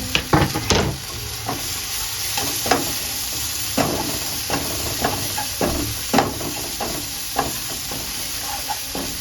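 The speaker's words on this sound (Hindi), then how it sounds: "थोड़ा सा इसको हम फ्राई करेंगे।" Chopped, deseeded tomatoes and green chilies fry in a pan, making a continuous hissing sizzle punctuated by sharp spatula clacks and stirring scrapes, close and unaccompanied by speech.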